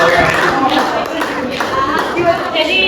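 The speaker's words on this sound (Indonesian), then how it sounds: "tepuk tangan dulu untuk kita semua" Scattered hand clapping from a small audience at a learning session, light and uneven, mixed with voices talking over it.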